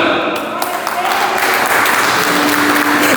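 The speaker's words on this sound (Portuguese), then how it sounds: "Aplauda esse Deus com todo o seu coração, aplauda." A church congregation applauds during a Portuguese-language worship service, a loud sustained wash of clapping with a preacher's voice speaking over it.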